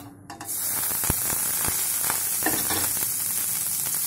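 Grated ginger fries with cumin in a pan for tomato pulao, giving a dense, close sizzle that starts abruptly and holds steady, broken by several sharp stirring clicks and scrapes. No one speaks.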